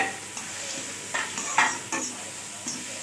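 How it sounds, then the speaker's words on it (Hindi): Onions and spices fry in a pan for an aloo bhujia masala, a steady sizzle broken by several distinct scraping stirs of a spoon against the pan at an unhurried pace. "इसको 5 मिनट भून लेना है हमने"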